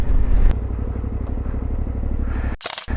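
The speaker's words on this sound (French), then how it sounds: "Tu as vu la moto qui était là, madame?" A motorcycle engine drones close by with a steady throbbing rumble, then a brief clattering scrape near the end.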